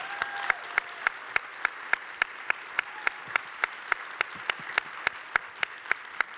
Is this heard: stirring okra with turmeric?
no